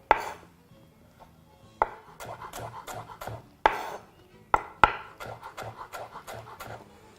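A knife chopping pea pods on a cutting board, with sharp, close thuds at irregular intervals and quicker runs of lighter chops between them.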